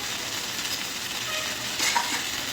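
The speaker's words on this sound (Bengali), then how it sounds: "এখন দিচ্ছি হাফ চামচ রসুন পেস্ট হাফ চামচ আদা পেস্ট" Half a spoon each of garlic paste and ginger paste frying in hot mustard oil, a brief, continuous, close sizzle with no talking.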